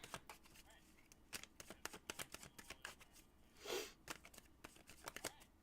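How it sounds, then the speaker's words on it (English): A deck of reading cards is shuffled by hand, a rapid run of crisp, close riffling snaps and flicks with a brief soft rustle partway through. "No, I'm going to shuffle this more."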